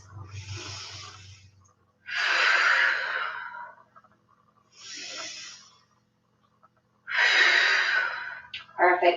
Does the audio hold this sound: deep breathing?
yes